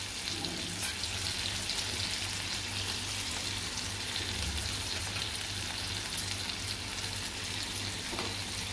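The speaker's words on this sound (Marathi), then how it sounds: "असे खरपूस चांगले तळून घ्यायचे आहेत" Bangda mackerel coated in masala fries in a pan, a dense, constant close sizzle like light rain that holds steady throughout, with one small clink near the end.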